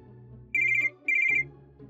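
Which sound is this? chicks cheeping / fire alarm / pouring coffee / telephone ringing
telephone ringing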